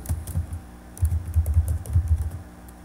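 Fast typing on a computer keyboard, close and clear, with a quick burst of keystrokes, a brief pause, then another rapid run of key clicks.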